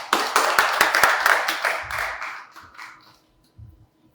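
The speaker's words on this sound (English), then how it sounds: "I think let's give him a round of applause." A seminar audience claps in a loud, close burst of distinct hand claps that thin out and fade over a couple of seconds, followed by quiet low murmurs.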